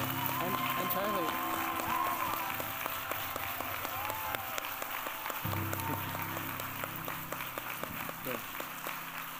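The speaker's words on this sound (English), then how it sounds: "give this man a rock star round of applause" An audience at a CreativeMornings talk in New York applauds the speaker with steady, continuous clapping, while voices and background sound stay mixed in throughout.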